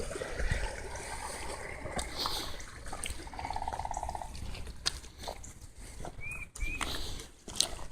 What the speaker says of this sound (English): Got a lot of creeks up here, like little streams of water just coming out of all those culverts.